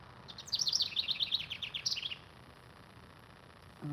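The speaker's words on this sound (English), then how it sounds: "that's the mama finch sitting behind me yelling at me because I'm too close to her nest" A mother finch near her nest outdoors in a garden gives a rapid run of sharp, high chirps for about two seconds, close and clear, then falls quiet over soft background hiss.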